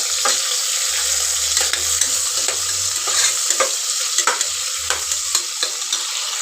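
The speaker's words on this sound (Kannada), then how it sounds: "ಈರುಳ್ಳಿ ಕೂಡ ಸ್ವಲ್ಪ ಫ್ರೈ ಮಾಡ್ಕೋಬೇಕು" Onions frying in hot oil for a pulao, a steady bright sizzle with repeated scraping stirs and clicks of a spoon against the pan, close and continuous with no talking.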